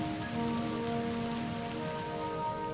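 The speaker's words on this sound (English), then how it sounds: "water started forming clouds, which finally rained down onto the surface of Earth" Steady rain falling onto the ground, a dense, even patter with a low rumble beneath, continuous and fairly loud with no voices.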